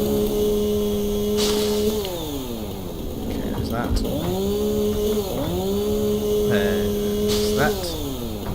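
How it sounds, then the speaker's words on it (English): Chainsaw clearing foliage in the Satisfactory video game, a loud, close engine whine that holds steady, dips and revs back up several times, with someone talking over it. "I'm actually going to have to bring the chainsaw back out to clear this area up"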